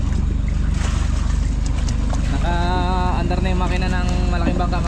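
Engine of a large fishing boat idling with a steady low rhythmic throb, close and constant beneath wind and water noise, while people talk over it.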